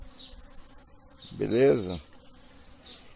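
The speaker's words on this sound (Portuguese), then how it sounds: "Muita abelha." Bees buzz around pitaya flowers at a home plant, a faint hum under outdoor ambience that swells into a louder, close pass lasting about half a second before fading again. A person speaks briefly nearby.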